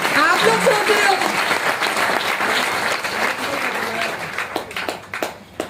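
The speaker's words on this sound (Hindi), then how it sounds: "ताली बजाओ, ताली बजाओ।" Seminar audience breaking into a burst of sustained clapping, dense and loud throughout before thinning out toward the end, with a voice talking over it early on.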